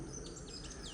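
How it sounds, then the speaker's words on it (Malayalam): Faint, high bird chirps flutter from birds at a window over a steady background hum, sounding a little distant. "കുറച്ച് കിളികൾ എൻ്റെ ഈ ജനലേമ വന്നിങ്ങനെ ഇരിക്കുന്നുണ്ട്"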